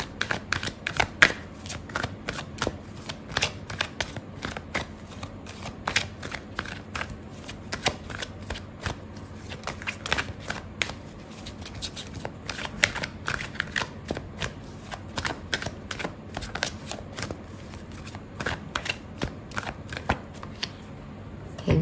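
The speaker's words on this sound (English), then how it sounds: "I'm going to pull out another card for you." Tarot cards shuffled and handled during a love reading, a steady stream of crisp riffling clicks and slaps running continuously, close and fairly loud, with no talk.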